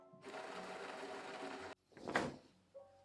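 A sewing machine stitches pin tucks on a chemise dress in a fast, steady whir lasting over a second, then stops, followed by a brief sliding knock and a short mechanical clunk.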